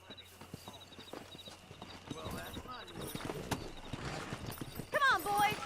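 Horses galloping in a race in Red Dead Redemption, rhythmic hoofbeats gathering pace with a whinny near the end, under game music and voices talking.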